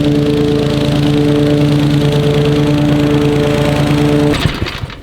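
A push lawn mower engine drones steadily and loudly while mowing a big lawn, a close, even hum that cuts out abruptly near the end.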